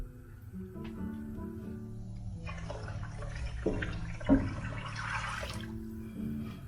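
Water is poured into a pan of shrimp curry, a soft running, splashing pour with a brief louder splash partway through, set against low kitchen background hum.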